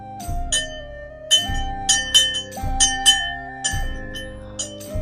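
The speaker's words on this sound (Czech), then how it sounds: "Je zvon, na který si můžete zazvonit" A bell rung repeatedly in a steady rhythm, each strike ringing out with bright, shimmering overtones that overlap, close and fairly loud with no voices.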